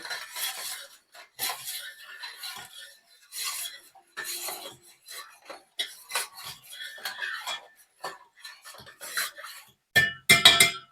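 A spoon clinking and scraping against a bowl while mixing a teaspoon of vinegar, in repeated short, bright, close bursts with brief pauses, ending in a cluster of sharper clinks.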